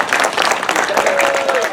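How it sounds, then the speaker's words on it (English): An audience applauds at an outdoor Obon festival after an Iaido sword demonstration, loud dense clapping throughout the short burst while a voice talks over it. "let's give a round of applause for Cynthia Tanabe-sensei"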